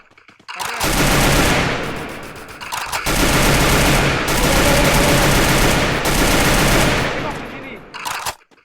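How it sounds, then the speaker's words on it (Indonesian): Sustained automatic gunfire and rapid bursts of shots fill a battle royale video game match, loud and dense for most of the stretch, with brief gaps and a short trailing burst at the end. "Oh, ada tembakan di sini, Dom Killer."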